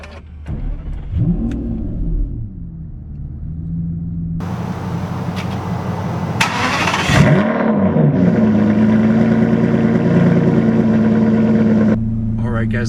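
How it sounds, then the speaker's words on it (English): A 2017 Aston Martin V12 Vantage S Coupe starts up with a starter whir, then a loud catch and rising flare before dropping into a steady, strong idle that later eases slightly. "let's go ahead and turn on the car."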